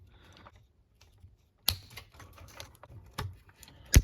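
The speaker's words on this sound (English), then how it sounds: "I should be able to just clip these off with my body scissors here." Body scissors snip at the plastic servo mount limiters of a 1/18 TRX4-M clone RC truck, a few sharp, close clicks and cracks scattered among faint handling noises.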